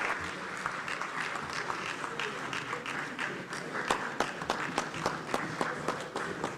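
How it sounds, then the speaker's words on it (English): An audience at an African inter-parliamentary conference on family applauds Reverend John Ntim Fojo, with sustained crowd clapping filling the room and sharper individual claps standing out near the end, no speech over it. "Please, a round of applause for my younger brother,"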